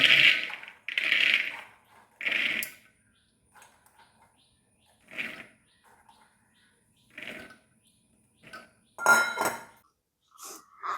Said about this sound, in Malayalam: അപ്പോൾ ഞാൻ കുക്കറിൽ ഗ്രീൻ പീസ് ഇട്ടു